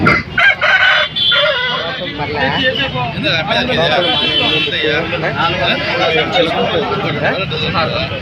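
Roosters crow repeatedly at a livestock market in Rayachoti, Kadapa district, over steady, busy background noise, with speech running throughout; the calls come close and fairly loud.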